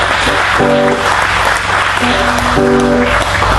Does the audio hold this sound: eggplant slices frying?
no